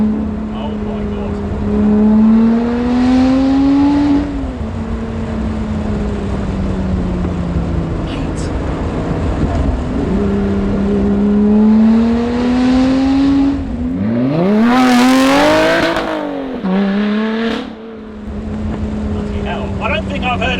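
A Lotus Exige 430 Cup Type 49 engine revs repeatedly, close and loud, with sharp rising and falling throttle blips and one high scream, while people talk and exclaim between the revs.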